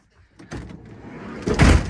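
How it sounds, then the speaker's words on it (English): The door of an Autotrail Expedition 67 pop-top campervan slides along and shuts with a single close, heavy thud at the end. "get in and shut the frigging door"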